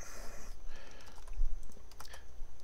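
Typing on a computer keyboard makes irregular clusters of close, crisp key clicks and taps over a quiet background.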